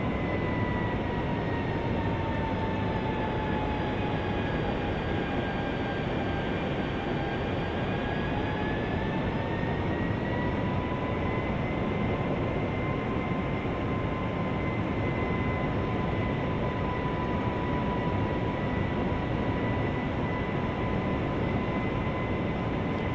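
QualityWings 757-200 airliner engines in Flight Simulator during a slow descent, giving a steady loud jet drone with sustained whining tones that drift slightly in pitch, no voices.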